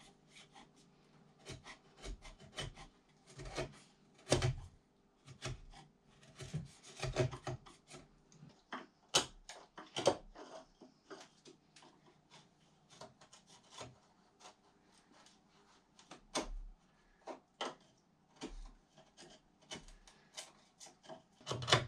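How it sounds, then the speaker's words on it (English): Hand chisel paring out a wood joint in an off-grid barn conversion in Portugal, giving repeated scraping, rasping strokes with sharp taps at an irregular rhythm, close and fairly quiet, with no talk. "basically try to chisel out a little bit more space there so it can slot right in and fit in nice and snugly"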